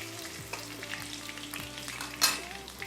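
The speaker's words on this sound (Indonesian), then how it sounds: "Ini kentang digoreng" Potatoes frying in hot oil, with a soft continuous sizzle broken by several light stirring scrapes and a brief louder clink near the end, close and fairly quiet.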